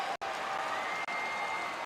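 A virtual arena crowd in an NBA 2K basketball game cheers and applauds after a win, a dense, loud, continuous roar broken by two split-second dropouts.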